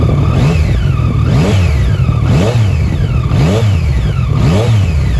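A Yamaha MT-09 Tracer (2015 model) motorcycle engine revs repeatedly at close range, each blip rising and falling in a steady rhythm through a deep, throaty aftermarket exhaust.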